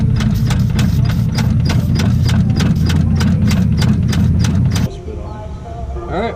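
A 1971 Dodge Demon barn-find engine idles loudly with a steady, fast rhythmic chug for several seconds, then cuts to a quieter rumble with faint background noise.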